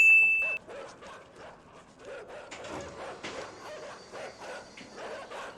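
Several small dogs bark and yip in quick, overlapping bursts at moderate distance in the video game Inside, with faint mechanical clanks in the background.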